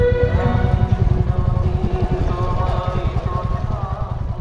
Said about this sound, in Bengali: বাইকটাও আমার নয়, আরেকজনের রয়্যাল এনফিল্ড।